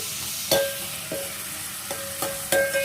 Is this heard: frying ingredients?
yes